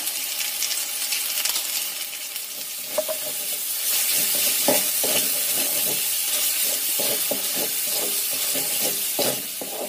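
Spice paste with a spoonful of shrimp paste sizzles steadily in a pan, with a continuous hiss broken by scraping stirs and light clinks of the utensil, close and moderately loud with no talk.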